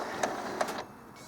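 An Epson Expression Home XP435 printer shifting its ink cartridge cradle, heard as two quick clicks followed by a brief whirring motor movement, close and fairly quiet.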